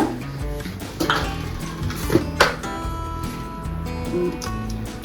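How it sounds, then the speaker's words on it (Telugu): Ginger, green chillies and salt being pounded in a mortar, heard as close, irregular hard knocks and clinks of pestle on stone, with a few sharper strikes and no speech. "సాల్ట్ వేసి ఇప్పుడు బాగా దంచుకున్నామండి మెత్తగా"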